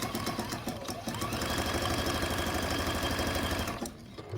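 Sewing machine appliquéing a tulip stem onto a quilt block, running at a steady rapid stitch for about four seconds before slowing and stopping, close and loud with no talk.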